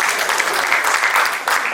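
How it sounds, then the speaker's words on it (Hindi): Dense, steady applause from a full audience at the closing session of a Marwari youth forum cultural event, loud and continuous throughout with no voices over it. "आप सबकी ओर से एक बार फिर से जोरदार तालियां हैं।"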